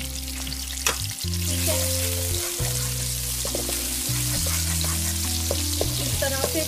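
Sliced onions softening in a hot pan for dum kabab, a continuous close sizzle with occasional stirring clicks beneath background music, and a voice briefly speaking.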